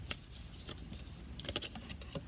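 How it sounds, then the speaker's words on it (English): A deck of oracle cards being shuffled by hand, giving soft, quick papery riffles and taps in a few short bursts, faint and close, with no talking. "So I'm just giving these cards a proper shuffle."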